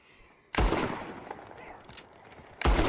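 Two heavy gunshots ring out in a Red Dead Redemption 2 standoff, one early and one near the end, each a loud broadband blast trailing into a rumbling echo, with a low murmur of ambience between them.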